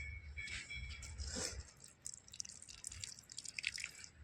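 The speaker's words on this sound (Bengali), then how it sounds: "কোথায় জলটা পড়ছে জলটা এই দিক দিয়ে দে এখানে দে" Water trickles and drips onto potted poppy plants, with irregular faint splashes and patters at close range, a brief pouring burst early on, then scattered drops against quiet background noise.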